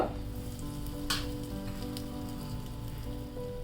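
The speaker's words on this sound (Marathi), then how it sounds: "कढाईमध्ये तेल गरम करून घेतलेलं आहे याच्यामध्ये मी मोहरी घालते हिंग" Mustard seeds and asafoetida sizzle in hot oil in a kadai for tempering, a loud, even crackling hiss with one sharper spatter burst early on and no voices.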